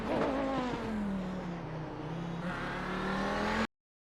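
A race-prepared Audi 90 GTO accelerating through gears on the Twin Ring Motegi circuit, engine note climbing loud and close, dipping at a shift near the middle, then rising again before cutting off abruptly.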